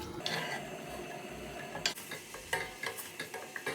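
Onion frying in a pan for a Turkish red lentil dish, a steady broadband sizzle with several sharp clinks and scrapes of a utensil stirring against the pan.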